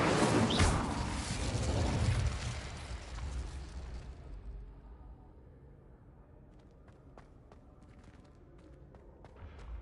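Incendio fire spell cast in the Hogwarts Legacy video game, a loud whooshing fiery burst that fades over a few seconds into quiet game ambience with light footsteps.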